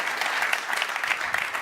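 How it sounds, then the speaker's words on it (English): A keynote speech crowd claps steadily in dense, continuous applause, loud and unbroken from start to finish. "let's take 1 second to give him a big round of applause"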